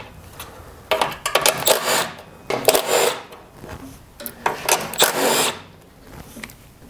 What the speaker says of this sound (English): So I'll be removing them with my impact